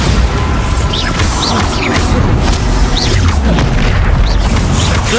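Bombarda spell explosions in Hogwarts Legacy, loud booming blasts with whooshing magical effects over dense, continuous combat noise throughout.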